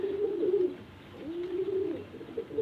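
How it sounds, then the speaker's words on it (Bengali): A pair of Chennai breed pigeons coo close by in low, rolling phrases, one swelling call followed by another after a short pause, with faint background hum and no talk. "সো ফ্রেন্ডস পায়রা দুটি ছাড়া হলো"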